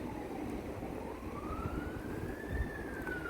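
An emergency vehicle siren rises and falls in pitch, fairly distant, over a steady low rumble of 100 mph gusting wind during a power outage.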